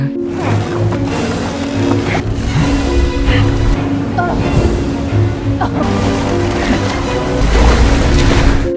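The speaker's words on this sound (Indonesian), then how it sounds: "Namun kocaknya rakit buatan Adam langsung hancur setelah dihajar ombak yang besar." Big ocean waves batter a small one-person raft on the sea beside an uninhabited island, a loud churning wash of water with surging crashes, mixed with tonal music-like sounds throughout.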